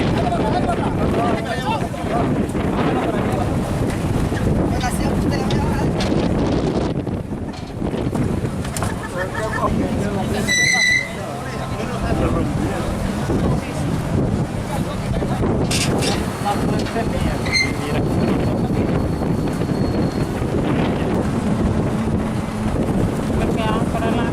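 Steady rumble of a small ferry boat under way from San Juan to Ometepe, with heavy wind buffeting the microphone and water rushing throughout; a few faint voices and clinks.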